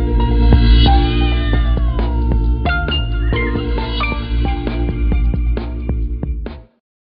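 A cat meows loudly and repeatedly close by, its drawn-out, wavering calls overlapping in a long caterwauling run before cutting off abruptly.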